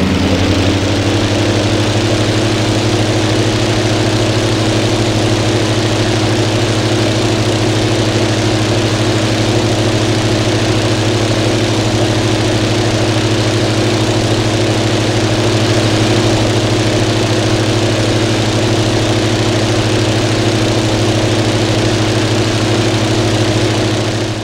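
Aichi M6A's inverted V12 liquid-cooled 1,400 horsepower aircraft engine idles in Flight Simulator X, a loud, steady low drone that settles after a brief rise at the start and holds constant throughout.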